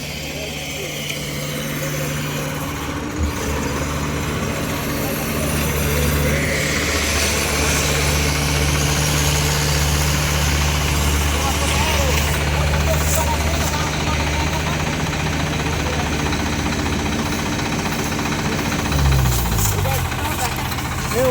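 A Sonalika 47Rx tractor engine labours in deep mud, with a loud, steady low drone and a knocking rumble that persists throughout and shifts pitch near the end.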